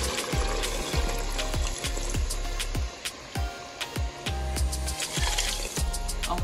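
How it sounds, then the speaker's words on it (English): Water poured into a pot of seasoned fish for a Jamaican coconut curry, a steady splashing pour running under a repeating low thumping beat throughout, moderately loud and close. "I'm gonna add some water to it. And I'm gonna pour this in."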